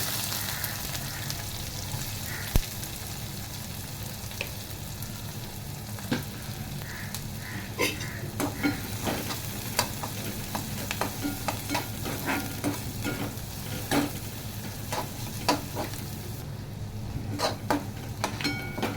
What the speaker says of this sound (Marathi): कढीपत्ता, कांदा टाकते